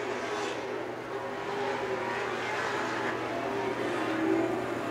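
Pro Stock race cars running at Seekonk Speedway, heard as a continuous, moderately distant engine drone that swells gradually as the pack sweeps past.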